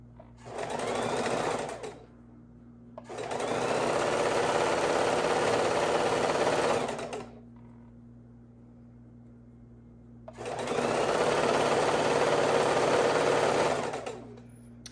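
A sewing machine stitches quilt pieces together with quarter-inch seams, running in three loud steady bursts separated by quieter pauses where a low hum continues.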